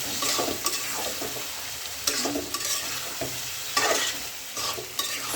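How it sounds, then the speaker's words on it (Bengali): Continuous sizzling of duck meat frying with spices in a pan, with repeated scraping strokes of a spatula stirring at an uneven rhythm. "মশলাটা আমি ভালো করে কষে নিচ্ছি"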